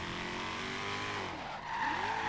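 A Ford Mustang GT350R drifts in the Forza Horizon 3 racing game, its engine droning loudly while the tires squeal through a long slide, with the pitch dipping and rising again as the car swings through the turn.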